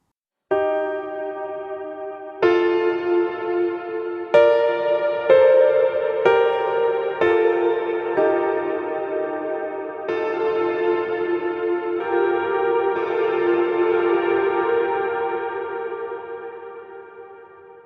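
Piano chords played through the Black Hole reverb plugin with the mix knob cranked, each struck chord swelling into a long, washy pad-like tail that blends into the next and fades slowly at the end.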